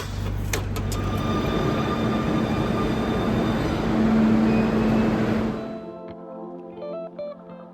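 A Barcelona metro train roars steadily as it runs, then the noise drops away to quieter hums and tonal whines as it slows. No one speaks.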